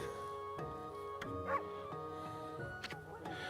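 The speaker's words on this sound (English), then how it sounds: "But I know that bark anywhere." A dog barks in a video game, a short, sharp yip near the middle over sustained game music.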